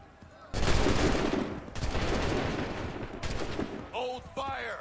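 Musket volley in Assassin's Creed 3, soldiers firing on command: a sudden loud crash of many shots that rolls into a sustained crackle and a second volley, then voices shouting orders near the end.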